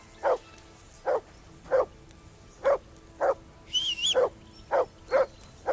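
A video game dog barks repeatedly in a steady rhythm of single woofs, loud and close, with a brief whining squeal partway through, in Kingdom Come: Deliverance 2.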